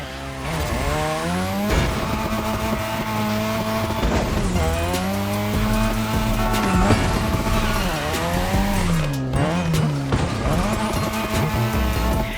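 Video game race car drifting around a drift track in The Crew, engine revving and wailing with rising and falling pitch over a constant loud roar, tires squealing intermittently, with music or effects layered underneath.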